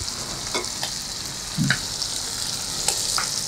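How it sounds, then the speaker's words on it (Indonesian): Food sizzles steadily in a hot pan while a utensil scrapes and stirs a few times as nasi kwacai is cooked, close up with no talking. "Nah, kita aduk."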